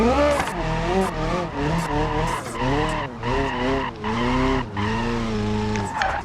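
Tires squeal and skid continuously as a car drifts through a corner in BeamNG.drive, a loud, wavering screech with the engine droning underneath, pitch rising and falling over several seconds with brief dips between slides.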